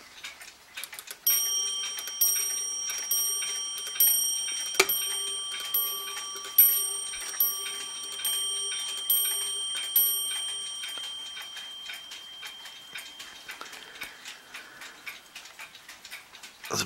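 A small black French slate clock with a rack-striking movement ticks steadily while its bell strikes about ten evenly spaced, ringing blows, each decaying before the next, then the steady ticking carries on alone.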